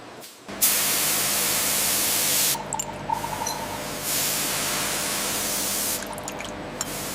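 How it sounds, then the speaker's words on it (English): Pressurized chemical fogging sprays into glass bottle interiors to sterilize them on a Corona Wheat beer production line. It sounds as a loud, steady hiss that rises abruptly and holds for several seconds, then briefly dips and returns. "This pressurized chemical fogging ensures that the interior of the bottle is completely sterile before"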